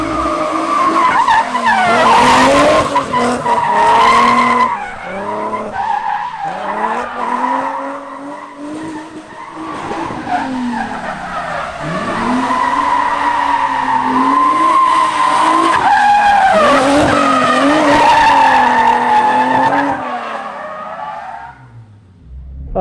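A rental drift car slides through long skids, its tires squealing loudly and continuously in rising and falling wails over a revving engine, close and dominant, before fading out at the end.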